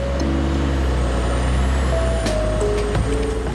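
A loaded garbage truck with air brakes idles loud and close, its steady engine drone overlaid with a few tonal beeps and whistles, then a brief burst and hiss around the later part.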